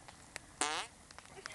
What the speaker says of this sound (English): It was this big fart.